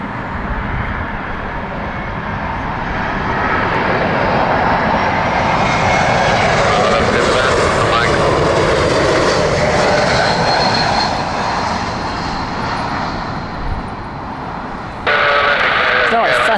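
KLM Cityhopper Embraer E190-E2 jet arriving at Heathrow in crosswinds, a loud sustained engine roar that swells as the plane passes close by, with talk over it.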